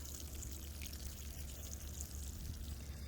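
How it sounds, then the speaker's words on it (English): Water pours steadily onto freshly transplanted, thinned garden plants, a soft continuous splashing trickle lasting a few seconds, close and fairly quiet with no voices. "Then we're just going to give them a nice little drink of water."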